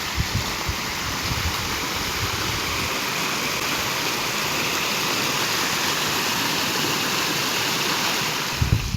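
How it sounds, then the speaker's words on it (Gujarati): Water pours from a farm field out onto a road in a steady, loud rush, like a small waterfall. The roar is constant and close, with no voices. "આવું અમારી વાડીમાંથી જો પાણી આવે રસ્તામાં."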